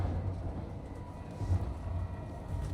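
S-Bahn commuter train running on the line toward Heidelberg and Mannheim, passing a system changeover point: a steady low rumble of the railcar with a slight swell partway through, heard from on board with no talk.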